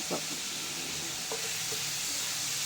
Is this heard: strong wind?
no